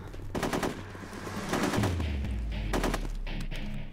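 Rapid automatic gunfire in the squad tactics video game Full Spectrum Warrior, bursts of closely spaced shots in several volleys over a low rumbling background, fairly loud, with no talking.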